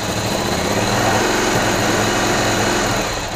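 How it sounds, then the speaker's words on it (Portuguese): Ducati Cagiva Elefant 900 motorcycle idling slightly fast, a steady close, loud mechanical chatter with constant rhythm and no voices over it. "Aí já tá na marcha lenta assim, olha lá, tá acima."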